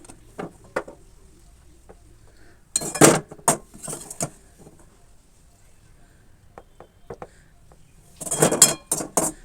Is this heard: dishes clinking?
yes